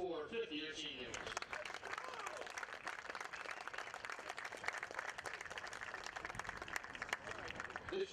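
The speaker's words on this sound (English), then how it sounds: "And how about one more round of applause for our four fifth-year seniors." Sustained applause and clapping from a college baseball crowd honoring seniors, steady and moderately distant, with a voice talking over it.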